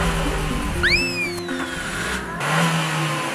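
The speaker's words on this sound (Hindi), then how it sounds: "पीठ जी की धड़कनें बढ़ जाती जैसे ही पड़ोसी की गाड़ी की आवाज आती।" A neighbour's car engine hums and revs nearby in a steady low drone, with a brief high whistling chirp passing over it.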